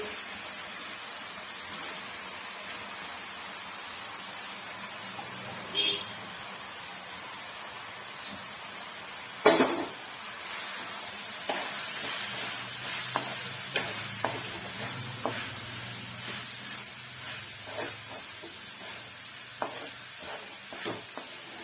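Washed flattened rice is tipped into a hot pan for poha upma, bringing a soft sizzle and then a series of spaced scraping, clinking stirs, fairly quiet and close with no talking.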